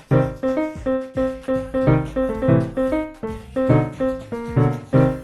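A basic chord progression from a High School Musical song played on piano, each chord struck cleanly and left to ring before the next in a steady, even rhythm.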